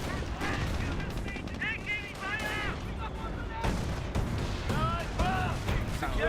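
Tank cannon fire in a Company of Heroes battle as a Sherman Firefly engages a Panther at close range, booming shots over dense continuous battle noise, with a caster talking throughout.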